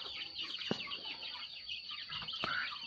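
Bangkok chickens cluck softly while eating, with a few short calls and pecking taps over a steady high insect-like hiss; fairly faint and close.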